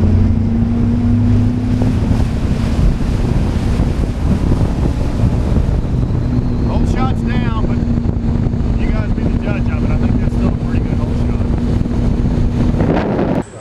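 A boat with a Mercury 250 V8 Pro XS four-stroke outboard roars steadily as it accelerates out of the hole, heavy wind buffeting and water rush over the engine, with a voice briefly heard.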